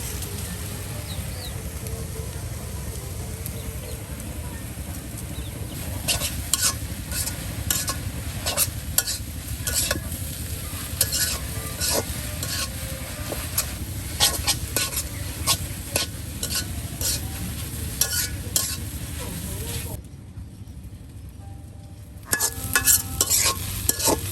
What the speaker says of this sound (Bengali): ডিম দিয়ে শাক ভাজি কিন্তু প্রায় শেষের দিকে